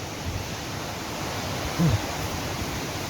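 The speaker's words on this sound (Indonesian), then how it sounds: "Dari dekat air terjun Coban. Bukan air terjun Coban, air terjun Glotak atau Coban Glotak." Coban Glotak waterfall in Wagir, Malang, with modest flow, a steady broadband rushing hiss of falling water close by, with a brief low bump partway through.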